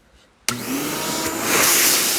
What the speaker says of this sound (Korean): 이 청소기의 흡입력을 한번 보면